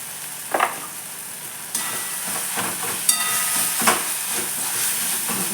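Masala sautéing in a hot pan for brinjal bharit, a steady sizzling hiss with occasional stirring scrapes and clinks throughout.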